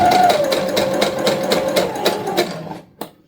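A sewing machine runs steadily, stitching back and forth across a thick layer of a shopping bag holder, with a continuous close rattling hum that stops near the end, followed by a brief click.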